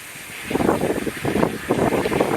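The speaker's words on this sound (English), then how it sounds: "And now the air will just flush out the line." Compressed air drives water out of an irrigation line through the sprinkler heads while winterizing the system. It comes as close, irregular gushing hisses in several surges, with no talking.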